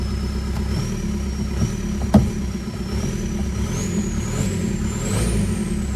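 A Seat Ibiza engine idles steadily right after starting, a continuous low rumble with a rising whine above it and one brief sharp knock partway through.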